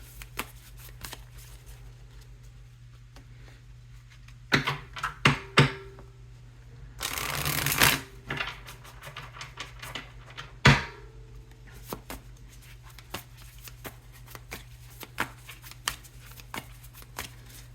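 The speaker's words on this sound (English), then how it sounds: "Okay, we'll get one more good shuffle." Tarot cards being shuffled in bursts of riffling and shuffling, with quiet pauses between, close up and with no talking.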